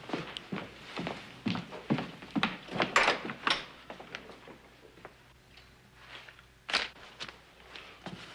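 Several knocks and thumps of a front door being handled in a western TV episode, with footsteps and shuffling movement nearby, moderately loud, and a final bang near the end.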